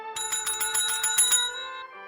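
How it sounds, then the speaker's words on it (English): A small bell rings in a rapid string of about ten quick metallic strikes, bright and resonant, then fades into a lingering ring. "It would crawl through the bell wire, and it would cause the bell to ring"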